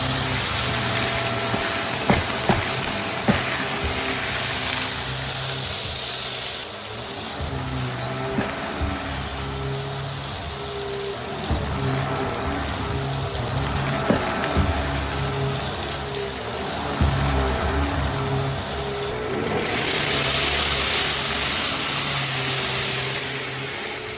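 A Vax Air Lift Steerable Pet Max upright vacuum cleaner runs steadily nearby, a constant whining motor drone with faint brush and airflow changes as it is pushed across the floor.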